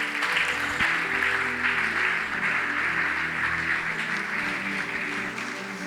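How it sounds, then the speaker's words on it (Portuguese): A congregation claps steadily in a church service, a dense, even round of applause sustained throughout with no talk over it. "Uma linda salva de palmas para o Senhor"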